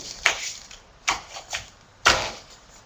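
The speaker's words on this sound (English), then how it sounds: "typing one more little thing" Keys are struck on a computer keyboard in an office setting, giving a few sharp, separate clicks spaced irregularly over a quiet background.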